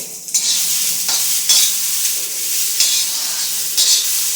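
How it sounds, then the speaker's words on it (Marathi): Steady sizzling hiss of fresh pigeon peas dry roasting on a hot griddle, with periodic scraping stirs every second or so. "तव्यामध्ये भाजले ना की मग चांगले असे भाजले जातात"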